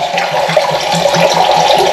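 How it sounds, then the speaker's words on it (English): Hot water running from a tap into a sink, a loud steady rushing splash that continues unbroken throughout. "Right, get some hot water in the sink."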